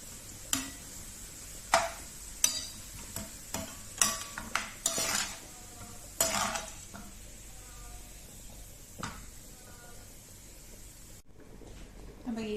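A metal spoon scrapes and clinks against a pot as golden fried onions are scooped out of hot oil, with a soft sizzle under the scattered sharp taps and a person talking.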